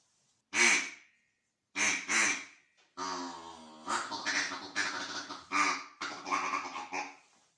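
Several loud, harsh bird calls in short bursts, a pair of squawks followed by a longer run of raspy, quacking cries close to the microphone.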